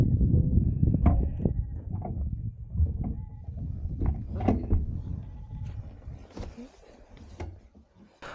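Sheep bleat repeatedly at close range beside a tent pitched in an Irish field, loud and frequent calls overlapping with a few softer bleats and rustling in between.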